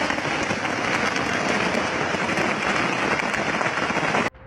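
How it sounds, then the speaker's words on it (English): Fireworks exploding during a display that forms a ladder of flames rising into the sky: a dense, continuous crackling roar that stays loud and steady, then cuts off abruptly near the end. "What starts off as your typical fireworks display suddenly transforms, sparking a collective gasp as it forms a ladder of flames soaring higher and higher into the sky"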